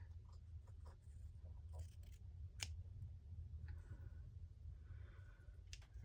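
Scissors snip through paper for a handmade book box, a few quiet close cuts and rustles over a low background hum.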